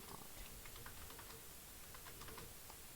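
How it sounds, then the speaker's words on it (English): Rapid, dense keyboard clicking during a Phantom Forces gaming session, a steady clatter of keystrokes close to the microphone with no talk. "Sorry if you guys, like, hear rapid clicking whenever I do, like, the power slides"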